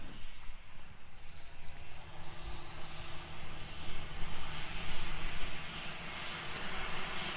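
A Jetstar airliner arrives and taxis quickly at Queenstown Airport. Its jet engines make a steady, broad roar that holds at moderate distance and swells slightly midway.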